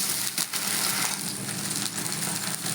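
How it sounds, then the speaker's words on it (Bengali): Onion and garlic frying in a pan after a splash of water goes in, giving a dense, steady sizzle and hiss with a few soft bumps, close and fairly loud. "এবার এর মধ্যে আমি সামান্য একটু জল দিয়ে দিলাম"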